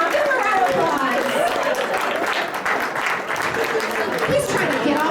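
At a membership meeting, the audience gives a round of applause: dense, steady clapping that dips briefly midway, with chatter and voices running over it.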